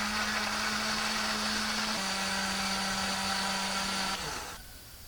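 A kitchen blender grinding shrimp paste, bird's eye chilies, large red chilies, shallots and garlic into a smooth paste, a loud, steady whirring drone that winds down and stops near the end.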